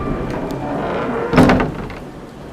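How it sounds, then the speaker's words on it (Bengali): A door is pushed shut with a single solid thud midway through, its knock briefly rising above a low background hum. "সঙ্গে সঙ্গে আবার দরজাটা তক্ষুনি বন্ধ করে দিতে হলো"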